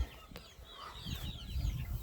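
Young chicks let out into a wet yard after rain, high thin peeping calls scattered over a couple of seconds, faint, with some low rustling and handling noise underneath.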